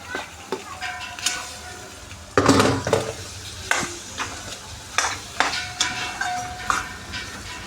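Potatoes frying in a pan with turmeric, a continuous sizzle broken by repeated scraping and clanking of a spoon stirring against the pan.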